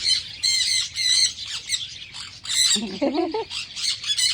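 A bird squawks loudly and close in repeated harsh, raspy bursts with short pauses between calls, while a person speaks briefly in the middle.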